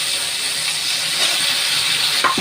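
Cauliflower pieces, coated in salt and turmeric, frying in a pan with green chili and cumin for a fish curry give off a constant loud hissing sizzle with a faint clink near the end.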